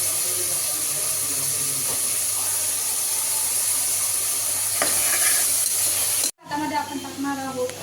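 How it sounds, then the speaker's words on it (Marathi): Chopped onion and tomato cooking with salt in a pan, sizzling and hissing steadily up close, with a sharp stir-scrape near the end after a momentary cutout, and a voice speaking. "आपला कांदा आणि टोमॅटो मऊ शिजवण्यासाठी आपण टाकणार आहोत मीठ, थोडंसं मीठ, जेणेकरून आपलं लवकर शिजेल."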